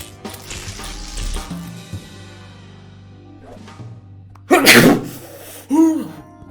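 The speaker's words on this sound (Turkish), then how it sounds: "Hapşıracağım." A sharp, explosive sneeze bursts out close by, followed by a shorter vocal sound, after a stretch of quiet background noise.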